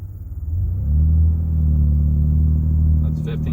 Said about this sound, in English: but we'll do a launch right here.